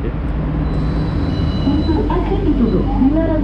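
An LRT Jabodebek train arrives at a station, a steady rumbling rail hum with rising whine and squealing tones near the end, loud and close under station ambience.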